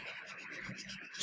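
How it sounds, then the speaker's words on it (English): Tissue rubbed over oil pastel on paper to blend the colours, a soft, continuous close scrubbing sound lasting about a second. "The last trick I will do is try to blend them with a tissue"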